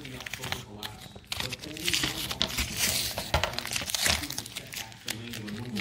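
Tape peeled and pulled off a cheap used decorative mirror, crinkling and tearing steadily and loudly up close with dense crackly bursts throughout.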